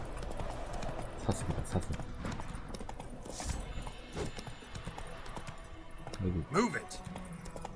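Roach the horse in The Witcher 3 clopping along at a steady pace under a man's chatter, with game ambience and a short shout from another voice near the end.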